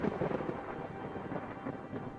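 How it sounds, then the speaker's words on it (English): A roar of thunder from a cloud struck by lightning in a tabletop game session, a low, sustained rumbling roll that stays fairly faint and steady with no voices over it. "a small arc of lightning kind of sparks through the cloud, and you hear a roar of thunder"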